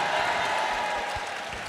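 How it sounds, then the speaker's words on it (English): Applause from a crowd at a comedy or music venue, a steady dense wash of clapping that stays even and fairly quiet throughout, with no voices over it. "They're clapping venues."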